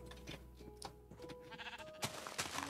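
Sheep in Minecraft bleat several times in quick succession, short wavering cries that stack up over a few seconds, fairly close and with no voices over them.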